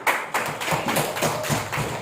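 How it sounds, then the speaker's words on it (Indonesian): Hands clapping in a classroom audience during an Islamic studies lesson, a loose burst of close, uneven claps and taps lasting a couple of seconds without talk. "Beri tepuk tangan"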